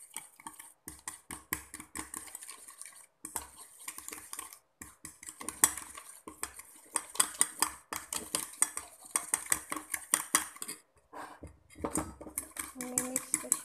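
A spoon stirs dalgona coffee with hot water in a cup, giving quick, irregular metallic clinks and scrapes in rapid bursts with brief pauses, fairly close and light.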